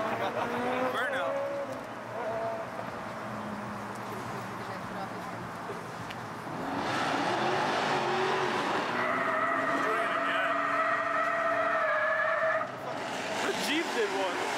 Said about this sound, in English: the burnout